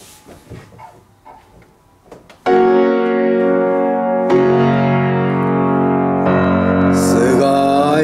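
An Apollo SR7 upright piano rings out loud and close, entering with a strong chord after a quiet stretch of light knocks and handling noise. More sustained chords follow, bright and resonant, with a new struck chord near the end.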